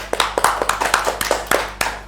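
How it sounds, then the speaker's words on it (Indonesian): A few people clapping hands close by during a campus podcast session, roughly a dozen sharp, separate claps in loose rhythm over a couple of seconds with a low hum underneath. "Tepuk tangan sekali lagi"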